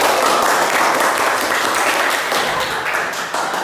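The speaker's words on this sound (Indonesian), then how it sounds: "Tepuk tangan untuk Dani." A classroom of students applauds, dense continuous clapping filling the whole stretch at close range with no talk over it.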